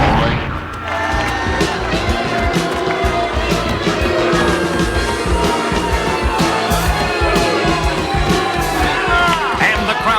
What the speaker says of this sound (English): And the crowd is furious at the Masked Mauler for picking on a poor defenseless kitty cat like that.